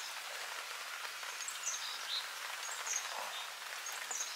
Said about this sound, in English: it just started raining on us